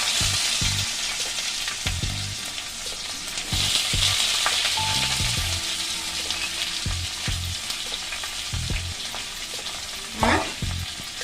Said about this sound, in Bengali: আমি কড়াইতে সাদা তেল দিয়ে দিয়েছি অল্প এর মধ্যে আমি দিয়ে দেব কুচানো পেঁয়াজ